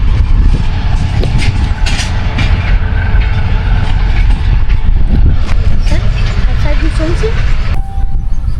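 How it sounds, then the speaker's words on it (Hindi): The 14 Down Awam Express pulls out of Taxila Cantt junction station, a steady loud rumble of a departing passenger train with rolling wheel noise and faint clatter, close by and continuous throughout with no voices. "ये थी 14 डाउन अवाम एक्सप्रेस जो अपनी मंजिल रावलपिंडी और कराची की तरफ चली गई"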